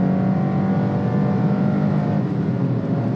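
A Toyota Corolla 1.5 petrol three-cylinder engine revs steadily at mid-range under half throttle, a constant loud, buzzy hum heard close up from inside the car, with no talk.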